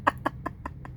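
A hen clucking close by, five short, evenly spaced clucks over about a second with no talk.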